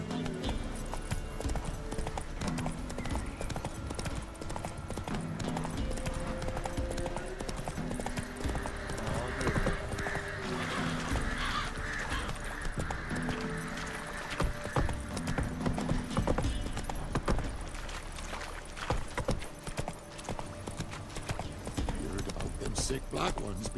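Roach the horse gallops in The Witcher 3, a continuous stream of hoofbeats with an occasional whinny, while game dialogue plays over it throughout.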